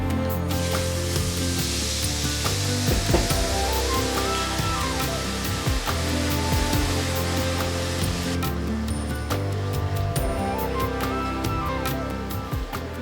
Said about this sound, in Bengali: মিশিয়ে কষান ততক্ষণ যতক্ষণ না মশলা থেকে তেল ছাড়ে।